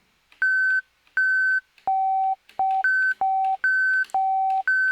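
An Elektron Analog Four synthesizer plays short clean electronic tones alternating between two pitches an octave apart, each a steady beep with a clicky attack, in an uneven repeating pattern, loud and close.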